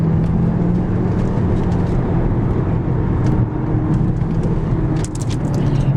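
A Peugeot 508 PSE accelerates with a soft, muffled engine note and steady road rumble, heard from inside the car and continuous for several seconds, without speech.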